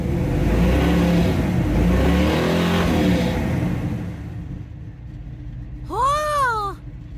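A 1983 Chevy Scottsdale C10 squarebody half-ton pickup engine revs loudly with a steady, rumbling high-idle roar under the pedal, then drops back down; a cat meows briefly near the end.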